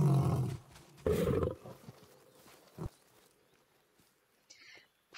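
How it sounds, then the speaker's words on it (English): A lion growls close up in the hunting game theHunter: Call of the Wild, a loud rumbling burst followed by a second growl, then quieter scattered sounds and a brief rustle near the end. "You do not get to hear a lion's growl that close very often in this game."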